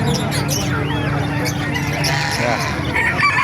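Chickens cluck amid the bustle of the Calumpit animal market stalls, where geese, pigeons and other fowl are also sold, a steady busy din with people talking nearby throughout.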